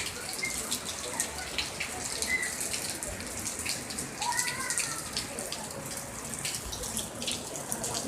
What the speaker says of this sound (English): it is raining like crazy here